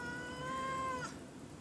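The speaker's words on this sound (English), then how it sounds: "Hello, kitties." A single drawn-out cat meow, fairly close and clear, sounds on a patio and ends in a short upward squeal, with quiet outdoor background and no talking.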